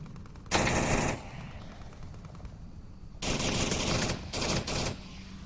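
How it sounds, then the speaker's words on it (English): Two loud bursts of rapid automatic gunfire in the Onward VR shooter: a short burst, a pause, then a longer rattling volley with brief gaps. "And Xandria shoots him in the butt"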